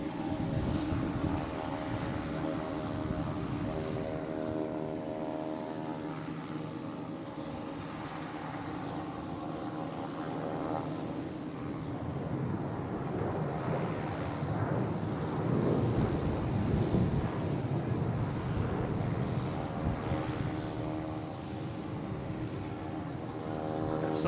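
Southwest Airlines Boeing 737-800 airliner at Boston Logan International Airport, bound for Chicago Midway, a steady loud jet engine roar with wind buffeting the microphone, sustained for the whole stretch with no talk.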